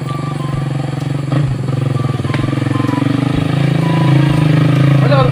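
Motorcycle engine running steadily nearby with a throbbing low rumble that grows slightly louder toward the end, with voices talking over it.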